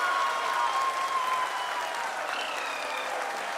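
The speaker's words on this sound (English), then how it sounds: "People are applauding." An audience applauds in a hall during a space mission landing broadcast, a sustained, dense wash of clapping from many people, with faint tonal sounds and murmurs mixed underneath.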